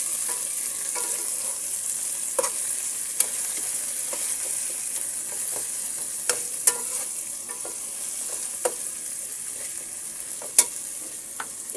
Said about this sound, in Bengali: পেঁয়াজের সাথে আদা রসুন বাটাটাও আমি ভেজে নিব।